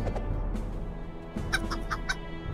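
A chicken in Lord of the Rings Online clucks in a quick series of short, sharp calls over a steady low background, with the clucks clustering in the second half.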